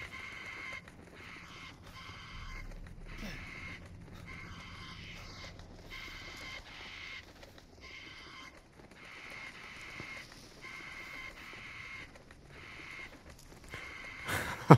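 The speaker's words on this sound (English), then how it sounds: "Yeah, it's a murder of crows" Crows caw in the Resident Evil Village video game, rough repeated calls spread through a steady hissing ambience, moderately distant, with a brief sharp noise at the very end and no talk.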